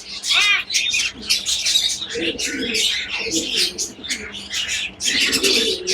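Pigeons, including white birds with crested heads, call and chirp close by, their cooing mixed with chatter of other birds and heard under a person talking for much of the time.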